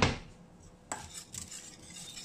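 A utensil scrapes and clinks against a pan while shrimp fry, with a faint steady sizzle underneath and a couple of sharper metallic stirring knocks.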